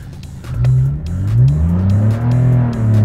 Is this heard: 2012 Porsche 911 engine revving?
yes